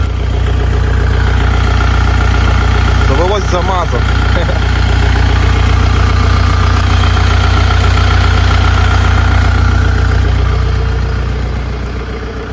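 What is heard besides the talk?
tractor engine idling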